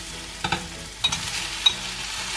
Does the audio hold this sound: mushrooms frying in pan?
yes